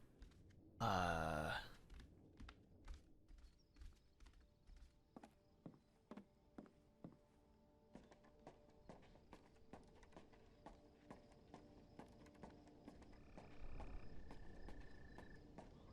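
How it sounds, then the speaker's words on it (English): Odd, hollow-sounding footsteps in the game Open Roads tap out an irregular series of sharp, close steps after a loud burst at the start, with a low rumble swelling near the end and no talking. "Aren't our footsteps kind of strange?"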